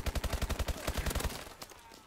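Rapid automatic fire from the SN6 in Call of Duty Advanced Warfare, a fast burst of about a dozen sharp, evenly spaced shots that stops and trails off into game ambience.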